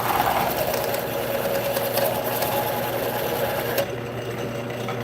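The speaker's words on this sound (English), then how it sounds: "Now on the center mortise, I'm going to use my skew to make the pinch dovetail." Wood lathe spinning a large burl while a skew chisel cuts a pinch dovetail into the center mortise, a steady droning whir with rough cutting texture that drops off sharply near the end.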